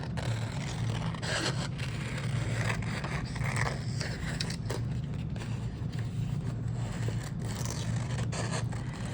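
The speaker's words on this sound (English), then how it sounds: "when I'm cutting, my scissors are always straight" Scissors cut paper in a steady series of close, rasping snips and scrapes over a low background hum.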